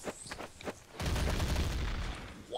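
Burst of gunfire in Counter-Strike, quiet footsteps and clicks at first, then a sustained loud volley of rapid shots filling the rest of the moment.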